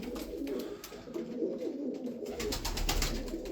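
Sarıkır tumbler pigeons coo softly in low, burbling calls that overlap continuously, close by with light background noise.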